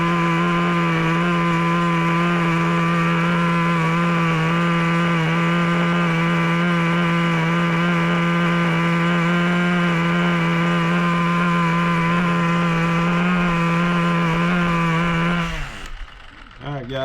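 The nitro engine of a Traxxas T-Maxx 2.5 RC truck idles during break-in, holding a steady, buzzing drone up close for a long stretch before cutting out near the end.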